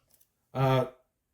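A house cat lets out a single loud, drawn-out meow close by in a quiet indoor room, with no talking over it.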